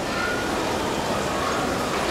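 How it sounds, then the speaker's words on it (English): A model train rolls through a large multi-level train display with running waterfalls, giving a steady rumbling clatter of small wheels on track, fairly loud and continuous, with no talking. "Like you've got a train coming through"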